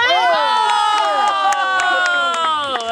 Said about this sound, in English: Clap for Greg.